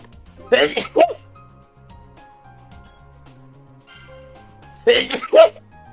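Two sharp sneezes a few seconds apart, each a loud, breathy burst close to the microphone, with a quiet background between them.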